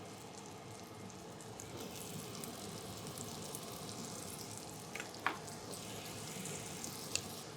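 Onions sizzling in browned butter in a pan, a steady quiet frying hiss with a couple of brief clicks from stirring, no talking.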